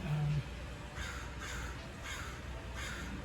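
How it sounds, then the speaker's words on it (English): Crows caw outside near a bonsai balcony on a rainy day, four evenly spaced harsh calls a little way off over a steady background hiss, with a brief low tone at the start. "I hope that you have crows and birds about and that you enjoy them."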